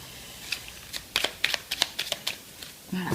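Oracle cards being shuffled by hand, a quick series of crisp papery riffles and slaps in an irregular rhythm, close and fairly soft, with no speech.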